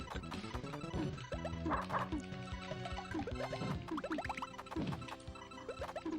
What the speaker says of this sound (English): You hear the dog barking, you know you're in trouble.